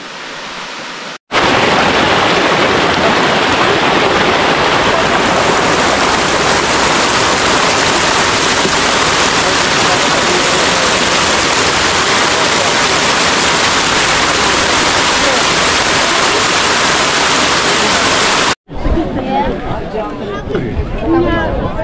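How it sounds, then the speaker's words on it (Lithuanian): A loud, steady roar of a waterfall on the way up Rysy, Poland's highest mountain, fills most of the recording, a dense continuous rush heard close up, with speech briefly at the start and end. "Kriokliai tokie. Visai gražu, krenta šniokščia."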